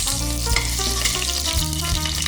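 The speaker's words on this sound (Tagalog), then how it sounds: "Maglalagay po ng mantika pag mainit na. And maglagay na po tayo ng bawang. Magigisa na po tayo." Garlic and onion sauté in hot oil in a pan, a close, steady frying sizzle with faint stirring scrapes and no speech.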